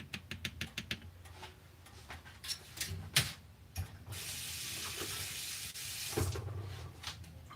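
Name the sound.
water tap running to rinse a canning jar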